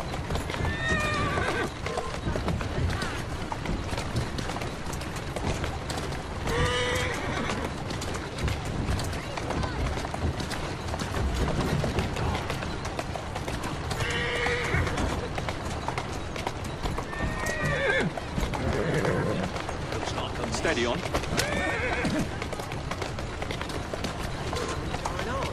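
Steady hoofbeats clip-clop throughout while a horse neighs a few times in the video game Assassin's Creed Syndicate, with birds and a brief spoken line over the constant noise.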